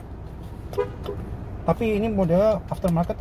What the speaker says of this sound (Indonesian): dan ini bunyi klaksonnya.